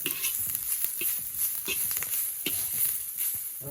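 Turmeric gets stirred into chowmein in a pan, with faint sizzling and scattered scraping strokes of a utensil against the pan over a constant hiss.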